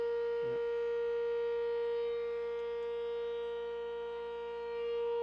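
A civil defense siren sounds at a high school football game at a stadium, holding a steady, sustained wail from start to finish at moderate distance.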